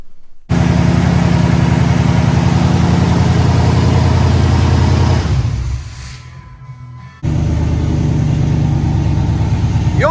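Engine of a 2nd-generation Dodge Ram mud truck running loud and close with a deep, steady rumble that drops away for about a second and a half, then returns at full strength.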